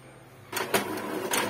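An Epson L3210 printer running a colour photocopy, with a steady mechanical whir and repeated feed clunks that start after a short quiet lead-in, close and fairly loud.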